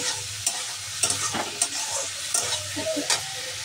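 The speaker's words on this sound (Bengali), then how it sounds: "আমি চলো এবার আমি এগুলিকে সুন্দর করে একটু কষিয়ে নিই।" Ingredients for khoira fish chorchori frying in a pan, a continuous sizzle with periodic scraping taps as a spatula stirs them, close and moderately loud.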